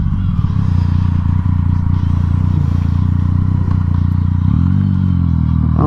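A motorcycle cruising at about 30 miles an hour gives a loud, steady engine drone with wind rumble, shifting pitch briefly near the end as the throttle changes.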